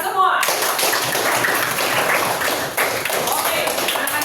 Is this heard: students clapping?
yes